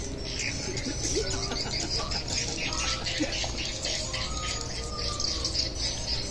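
Recorded swiftlet mating calls playing continuously, with dense overlapping chirps and twittering over a steady hiss, fairly loud and constant, with a person speaking faintly in the background.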